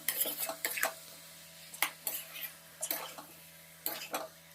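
Chicken, potato and salt mixed in a pot give clusters of sharp metal spoon clinks and scrapes against the pot, in irregular bursts with quiet gaps, close and fairly soft.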